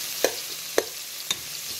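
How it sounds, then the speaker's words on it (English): Onion cooking in heated olive oil in a pot, a soft continuous sizzle broken by three evenly spaced clinks of stirring, quiet and close. "I added the onion to my pot. I just threw some olive oil in there and heated it up."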